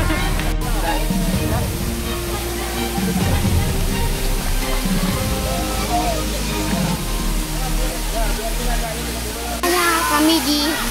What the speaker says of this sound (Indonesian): Di air terjun.